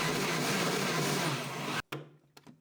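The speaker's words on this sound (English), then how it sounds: "put it into a blender and give it a blend to make a puree of it" A blender purees blanched spinach for palak paneer, a loud steady whir that runs for nearly two seconds before stopping abruptly, followed by a brief restart and a couple of short bursts as it winds down.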